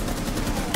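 Rapid gunfire in Rainbow Six Siege, a dense continuous burst of shots close up that fills the short moment without pause.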